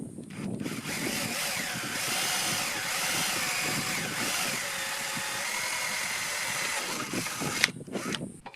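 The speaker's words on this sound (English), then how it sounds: "We're going to end up drilling right into those." A power drill whines steadily for several seconds at close range, drilling into a surplus motorcycle tail box for a KLR-650, then stops, followed by brief clunks and handling noises.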